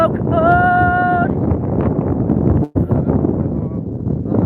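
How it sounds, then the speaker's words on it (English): Strong, cold wind sweeps down a city street, buffeting the microphone in a loud, continuous roar that barely lets up, with a brief tonal voice-like sound near the start. "It's bloody windy down this wicked street, and it's so cold."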